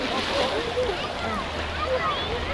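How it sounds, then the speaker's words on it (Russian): A boat passes on the sea off a swimming beach, its steady rush of engine and churned water blending with the surf at moderate loudness, with voices talking intermittently over it. "И вот лодка проехала"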